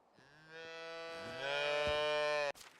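A cow lows in the medieval farming game Medieval Dynasty, one long, loud, near moo with a rising then steady tone that cuts off abruptly after about two and a half seconds, with no talking.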